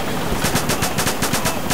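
Video game battle gunfire in ArmA 2, rapid bursts of automatic weapon shots in a quick rhythmic volley, loud and close with no voices over it.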